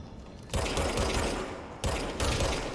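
A gun fires in a video game: two sustained bursts of rapid automatic fire, loud and close, separated by a short gap, with no speech.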